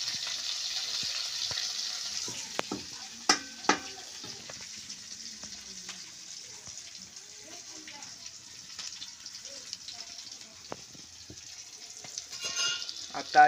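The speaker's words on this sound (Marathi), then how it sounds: "आणि एक नंबर अशी फोडणी दिसून राहिलेली आहे वरणासाठी" Chillies, cumin and turmeric sizzle in hot oil as a tempering for Maharashtrian moong dal varan, a steady close frying hiss with a few sharp crackles and pops, and light stirring clatter near the end.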